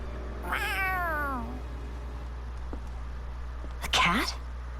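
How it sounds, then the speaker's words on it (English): A cat in the video game Tales of Arise gives two meows, a longer falling call near the start and a shorter one near the end, clear over a low steady background hum. "A cat? Where'd it come from?"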